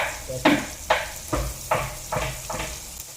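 Crushed ginger and garlic sizzle in a frying pan with onions while cooking a fish curry, a steady hiss broken by about six sharp scraping stir strokes at a regular pace, close and fairly loud.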